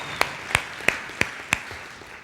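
Five sharp, evenly spaced claps ring out over a quiet background, like a slow rhythmic round of hand clapping at a church service.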